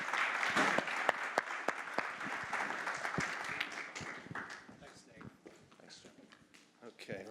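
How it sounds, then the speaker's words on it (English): An audience at a cybersecurity keynote claps warmly, a dense round of applause that is loud at first and slowly thins out toward the end. "let's give Jim a warm round of applause and welcome him"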